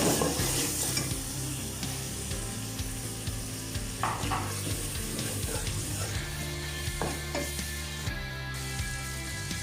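Tomatoes and green chillies sizzle hard in a pan of browned onions for a peas-and-mutton curry, with steady frying hiss and repeated stirring scrapes throughout and no voices.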